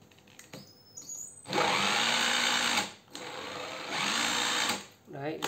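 A Japanese 14V cordless drill runs in two sustained bursts of steady whirring, spinning up and winding down close by, with a person talking briefly before and after.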